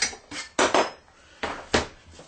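Coarsely chopped peppers are tipped into a pot, producing a handful of clattering knocks and scrapes of metal cookware in quick, uneven bursts, close and fairly loud, with no talking.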